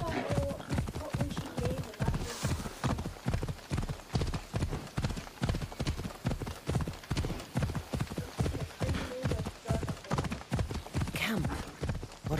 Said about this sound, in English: I could speed this up a little bit by getting my horse, my black unicorn that I cherish so much.